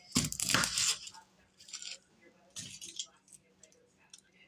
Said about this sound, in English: I'm going to cut the top and the bottom off of this onion